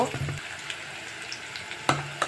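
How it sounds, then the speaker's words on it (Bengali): Chopped onion and green chili fry in hot oil in a kadai, giving a close, steady sizzling hiss with a couple of brief metallic clinks of a spatula near the end. "কড়াইতে তেল দিয়ে দিয়েছি, এবার কুচনো পেঁয়াজ আর কাঁচামরিচ দিয়ে দিচ্ছি"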